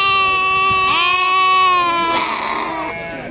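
Sheep bleating at the Tuesday livestock market in Azrou, a loud, close, wavering cry that repeats in a second rising bleat over crowd murmur.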